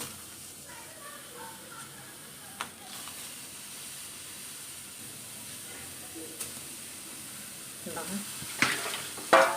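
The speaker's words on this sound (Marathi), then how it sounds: "गवारी हे आपल्याला डागं भाजायचे आहे" Cluster beans (guar) dry-roast on a thin tava with no oil, giving a faint, steady low sizzle and hiss, broken by a few sharp clinks and stirring scrapes that grow busier toward the end.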